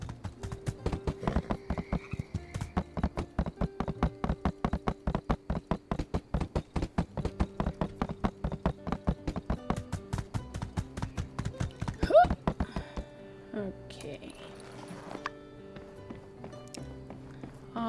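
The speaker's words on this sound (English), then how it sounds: "The horse's name is Hope." Steady, rhythmic clip-clop of horse hooves trotting in the video game Sandrock for many seconds, then stopping as faint game sounds and brief talk continue.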